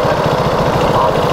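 Police motorcycle engine idling at a traffic light alongside, a steady low pulsing throb close by and fairly loud throughout, with no talk over it.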